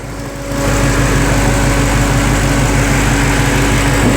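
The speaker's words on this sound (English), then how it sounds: "a look under the hood with the car running" A 2017 Dodge Hellcat Charger's engine runs under the open hood, a loud steady mechanical drone with a constant hum that swells up just after the start and holds evenly, with no voices.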